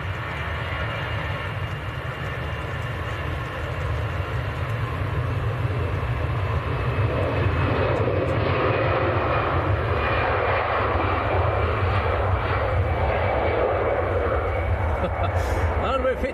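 An easyJet airplane departing Manchester Airport for Geneva produces a loud, continuous jet engine roar that holds steady throughout, with no talking.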